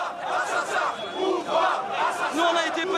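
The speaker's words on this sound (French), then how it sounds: "Les manifestants reprennent en chœur les slogans de la révolution égyptienne" A large protest crowd at an Egyptian revolution demonstration chants slogans in unison, with many voices rising and falling in a steady rhythmic cadence close by.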